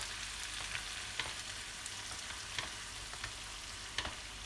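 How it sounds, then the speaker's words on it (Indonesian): Sweet soy sauce marinade sizzles and crackles steadily in a hot pan while it is stirred, producing a continuous close frying hiss with occasional sharper pops and no talking. "Lalu tambahkan kecap manis."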